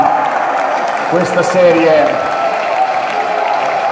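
Basketball crowd applauding and cheering for the Reggio Emilia team after the championship final, a steady wash of clapping filling the arena under an announcer's voice.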